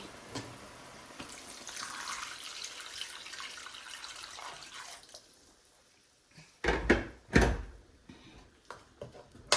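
Water splashes and gurgles into a cooking pot for chicken leg palo, a few bursts of pouring after quieter kitchen clatter, close and moderately loud with no talk.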